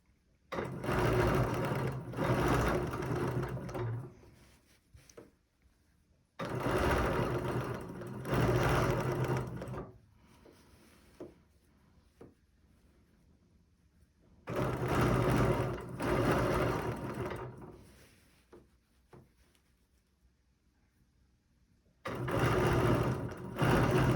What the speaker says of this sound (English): then I'm going to stitch back and do the same thing again, repeat the exact same thing. So now I'm just doing another star.